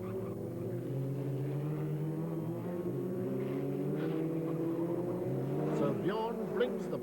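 Formula Ford racing cars roar along the main straight at Phoenix Park in Dublin during a 1996 motor race, engines droning steadily at a distance under a commentator's voice, rising slightly as they approach near the end.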